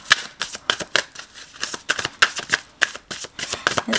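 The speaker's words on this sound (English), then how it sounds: "these are new, so they so hard to shuffle" Stiff new tarot cards are riffled and shuffled in quick, uneven bursts of crisp flicking, close up and fairly loud, with no talking.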